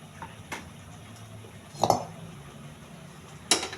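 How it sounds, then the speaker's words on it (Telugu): A metal pan is set down on a lit stove for roasting peanuts, giving a few scattered light clinks and knocks, with one sharper metallic clank near the end, in a quiet kitchen. "ముందుగా స్టవ్ వెలిగించుకొని పెనం పెట్టుకోవాలి."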